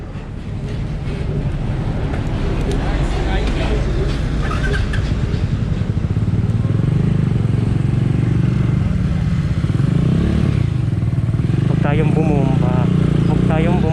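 A CG 150 engine motorcycle with a 28mm carburetor and an open pipe exhaust drones steadily and loudly throughout, a continuous close engine rumble with people talking over it at points.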